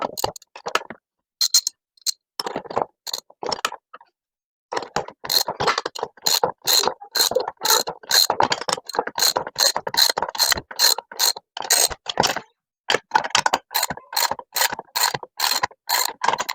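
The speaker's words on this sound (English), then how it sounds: "I am just going to use my ratchet, 17 millimeter, to" A 17 mm ratchet tightening bolts on a workout bench, crisp rapid clicking in bursts with short pauses between strokes, close and loud with no talk.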